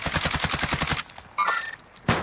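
Rapid automatic gunfire in the video game Warzone, a fast loud burst of shots for about a second, then sparse game sounds and a final sharp crack, with no speech.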